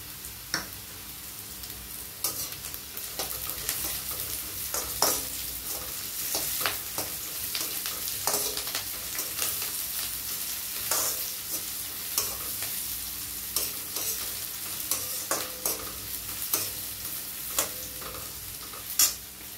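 Beans and carrots fry in a pan for fried rice, a steady close sizzle broken by frequent scraping stirs, with no voices.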